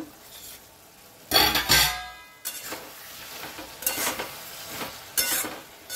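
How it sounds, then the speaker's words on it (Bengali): Shrimp with pui greens and stems are stirred in a pan, with several scraping, clattering strokes of a utensil against metal arriving in short bursts over a soft sizzle. "সব কিছু একসঙ্গে ভালো করে মিশিয়ে নেব"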